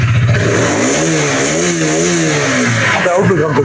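A 2021 KTM RC 125 motorcycle engine revs up and down in smooth, wavering swells, loud and close, with a voice speaking over it.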